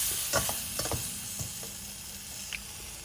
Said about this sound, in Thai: ตามด้วยใบกะเพราลงไปผัดต่อเลยครับ